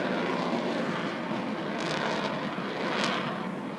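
A jet aircraft at the 2013 Blackpool airshow climbs vertically on afterburner, its continuous roaring rumble loud and sustained throughout, with no talk.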